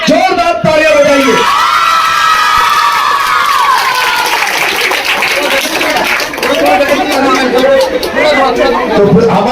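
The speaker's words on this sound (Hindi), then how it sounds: "जोरदार तालियां बजाइए।" A loud, dense crowd at a Congress party gathering cheers, whoops and shouts for the district president, with clapping mixed into the noisy, continuous din and a voice calling out over it.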